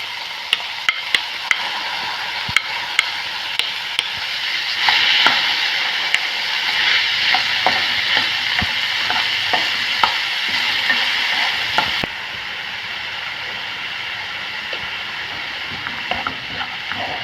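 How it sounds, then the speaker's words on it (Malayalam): Carrots and tomatoes fry in a pan while being stirred, a continuous close sizzle with repeated sharp clicks and scrapes of the spoon, quieter toward the end. "നന്നായി ഇളക്കി കൊടുക്കുക."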